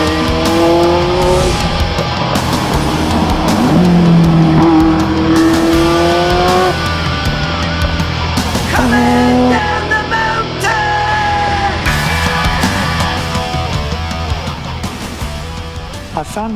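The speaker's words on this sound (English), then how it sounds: "I found myself sideways in the first hairpin as a result of a bit over-eager on the throttle in second gear" A car slides sideways through a track hairpin under an over-eager throttle in second gear, its engine loud and close, rising and falling between shifts as the tires scrub, with a voice talking over it.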